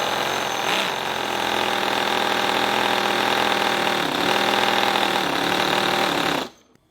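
A V8 nitro model engine with open collectors idles steadily, a loud buzzing rasp with slight wavering before cutting off abruptly near the end.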